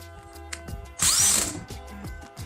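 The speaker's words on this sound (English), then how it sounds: "I have my drill from work." A power drill whirs in short bursts, with one louder high-pitched spin in the middle and quieter motor hum and clicks around it, close by.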